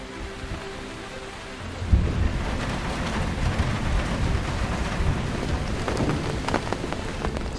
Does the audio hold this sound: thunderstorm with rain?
yes